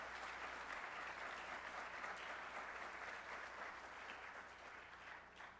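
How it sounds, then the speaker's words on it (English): Crowd at a college's spring closing meeting gives a task force a round of applause: continuous, evenly spread clapping from many people, heard at a modest distance and holding steady throughout. "We should give them a round of applause"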